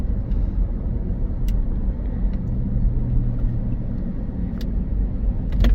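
Heavy road traffic in Dubai near the Burj Khalifa and Dubai Mall produces a continuous low engine rumble with passing cars swishing by close at hand, no voices heard.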